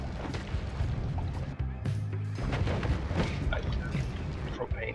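Propane tanks exploding in the video game Noita, a string of booming bursts and crackling pops, partly under a speaking voice.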